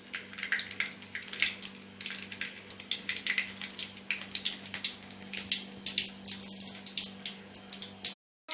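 Mustard seeds sputter and pop in hot oil in a home kitchen pan for brinjal masala, a dense stream of crackling bursts running steadily for about eight seconds before cutting off.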